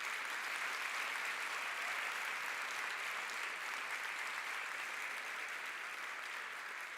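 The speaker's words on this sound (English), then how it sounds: "let's just take a moment to give them a round of applause for sitting up here" Audience applause at a Westchester University event: steady, dense clapping from a sizable crowd, sustained at an even level for the full stretch with no voices breaking through.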